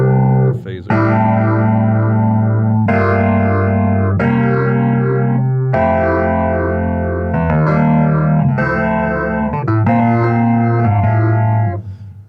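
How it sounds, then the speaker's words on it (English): Keyboard chords played through a phaser guitar pedal swirl with a steady, sweeping whoosh, changing chord every second or so in a sustained, heavily effected sequence. "I have this phaser here, and a lot of 70s stuff was the"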